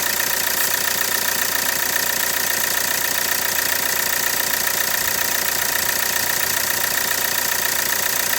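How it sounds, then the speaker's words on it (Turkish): A Hyundai Accent Blue's engine idles steadily at a close distance, giving a constant, dense mechanical rumble with a faint knocking texture and no noticeable change in pitch or loudness. "Benim arabanın motor sesi bu arkadaşlar."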